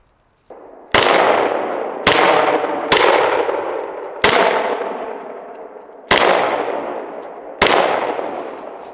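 A Glock 17 and a Polymer80 pistol fired together with cheap ammunition, six loud, sharp reports spaced about a second apart, each with a ringing decay, and no voices.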